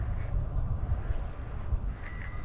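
A bicycle bell rings twice in quick succession near the end, bright and fairly close, over steady road and wind rumble while riding toward Somerset Park.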